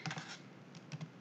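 Keys clatter on a computer keyboard as a SQL Server query is typed, a few quick bursts of clicks close by and fairly quiet, with no talking.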